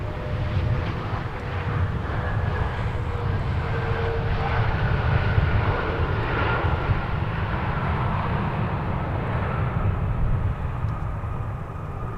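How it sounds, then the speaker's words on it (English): An Airbus A330-900 Neo airliner comes in to land at an airport, its engines producing a loud, steady broadband roar with a sustained whine that stays close and continuous throughout. "listen to the sights and sounds of the Airbus A330-900 Neo coming in for a landing"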